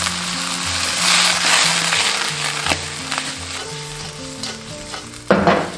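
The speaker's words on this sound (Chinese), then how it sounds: "一定要把这个虾头、虾壳的这些香味全部炒出来" Shrimp heads and shells stir-fried in oil in a wok with scallion whites and ginger, cooking wine splashed around the rim, sizzle loudly and steadily, with a spatula scraping and knocking against the pan and soft music underneath.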